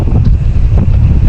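Strong wind at Kattadipara, a hilltop viewpoint in Idukki, buffets the microphone in a loud, continuous low rumble with no voices.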